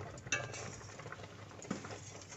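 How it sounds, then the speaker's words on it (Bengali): Gobindobhog rice payesh being stirred in a pot, a soft, steady scraping patter with a few light clinks of the spoon against the metal, close and fairly quiet, no voices. "মিষ্টিটা দিলে একটু পাতলা হয়ে যায়, যার জন্য আর একটুখানি নাড়তে হবে পায়েসটাকে"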